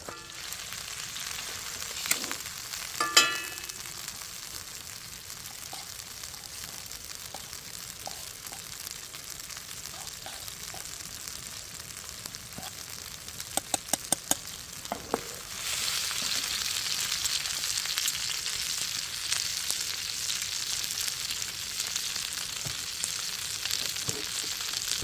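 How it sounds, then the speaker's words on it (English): Olive oil sizzling in a cast iron pan at an outdoor fall campsite, a steady close hiss with a few clicks that swells louder partway through and keeps frying without a break. "Got some olive oil in the cast iron."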